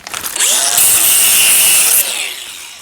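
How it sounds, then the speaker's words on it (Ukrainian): An angle grinder bites into brass scrap, letting out a loud, piercing metallic whine for about a second and a half after a short spin-up, then dropping off as the disc winds down. "По латуні нам треба болгарка."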